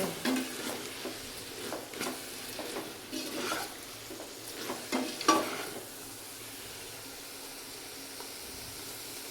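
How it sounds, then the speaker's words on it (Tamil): Vegetables for a vegetable biryani being sautéed in a pot: a soft, steady sizzle with scattered scraping stirs for the first six seconds, then only a low, even frying hiss. "இப்படி நான் வதக்கியிருக்கேன்"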